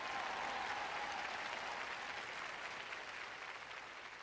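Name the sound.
audience applause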